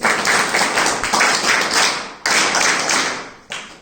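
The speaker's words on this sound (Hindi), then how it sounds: "स्नेहा के लिए ताली बजाइए प्लीज" Audience clapping for Sneha at a Republic Day and Basant Panchami school event, loud bursts of applause that swell and fade in waves, with a sharp fresh burst midway.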